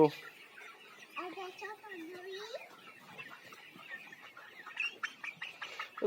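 Small chickens cluck in short, bright bursts close by, while people talk over and around them.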